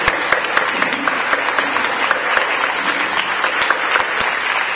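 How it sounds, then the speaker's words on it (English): Crowd at a Hispanicize Latinovator Award ceremony breaks into sustained applause, thick overlapping clapping with a few sharp louder claps standing out, continuous from start to finish. "Well, I think that deserves a round of applause."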